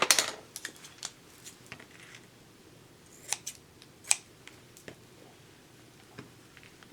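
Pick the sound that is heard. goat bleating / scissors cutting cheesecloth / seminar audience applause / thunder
scissors cutting cheesecloth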